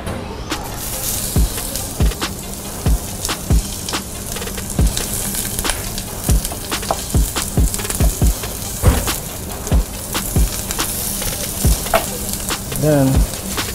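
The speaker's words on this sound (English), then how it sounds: "saute it. So we first go with the onion. The onions first." Onions sautéing in a hot pan in a hotel kitchen, a steady loud sizzle with repeated sharp knocks and scrapes of stirring spaced through the whole stretch, close by and without talk.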